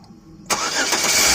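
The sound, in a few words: 1999 Buick Century engine starting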